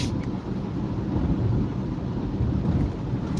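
Water spray from a car driving on a wet highway during rain, near the I-94 merge, a dense continuous hiss and rumble of tires throwing up water, steady and loud with no talk.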